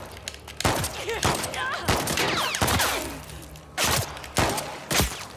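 Bursts of gunfire in The Last of Us Part II, loud sharp shots in quick succession with whizzing effects between them.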